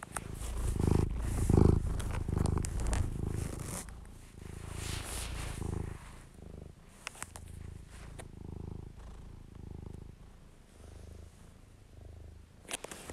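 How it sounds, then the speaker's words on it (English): A cat purrs loudly and steadily at close range in a quiet room, with a soft rustle and a faint zipper-like scrape here and there, and no one speaking. "In lieu of a voiceover, here's Ronaldo purring really loud."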